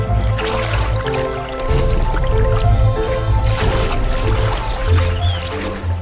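An arowana in the Amazon leaps from the water, splashes and drips sounding close over a background wash of water, with a stronger splash partway through.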